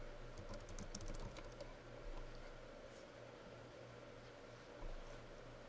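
Typing on a computer keyboard during After Effects work, quick faint clusters of key clicks near the start, then sparser taps over a low steady hum.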